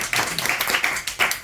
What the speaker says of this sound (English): round of applause for Ashish, MCing,